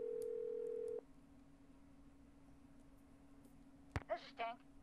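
Telephone in the Nancy Drew: Haunted Carousel game: a steady dial tone plays for about a second and cuts off, then after a quiet stretch a short burst of dialing tones and beeps sounds near the end.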